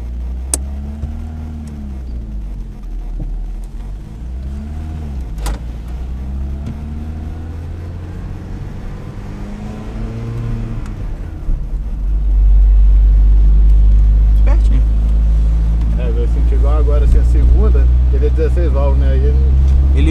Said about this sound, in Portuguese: Quando eu vou achar o ponto da embreagem.